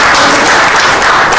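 Audience applause at a general assembly hall, a loud, dense, unbroken wall of clapping from many people, with no gaps across the short burst.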